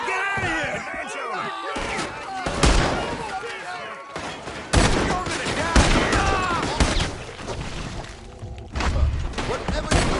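Chaotic gunfire fills a Red Dead Redemption 2 shootout: loud, dense volleys of close shots and distant cracks, with shouted voices mixed in over the continuous firing.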